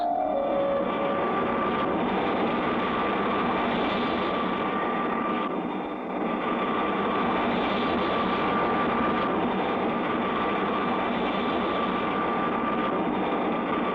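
A cartoon spaceship flies low over Mars, its steady, loud, whooshing engine roar filling the whole stretch with only a brief dip midway.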